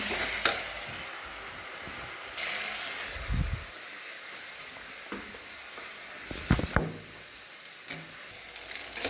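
Cumin, ginger, green chilli and spices frying in a pan for masoor dal, a steady soft sizzle broken by scraping stir strokes and a few knocks of the spoon against the pan, with no talking.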